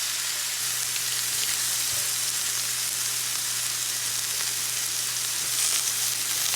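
Sausage, onions and mushrooms fry in a pan with a steady close sizzle and crackle, continuous and even throughout with no talking.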